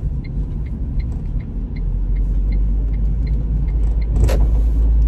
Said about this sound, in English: Today, I am driving in my buddy's work van that has an overheating issue